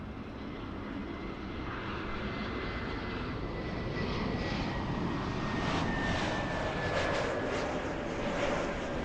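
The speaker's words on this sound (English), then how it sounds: "Back-to-back Frontier planes." A Frontier Airlines airliner passes overhead near an airport, a loud steady roar of engines holding throughout with a faint rising whine, no voices.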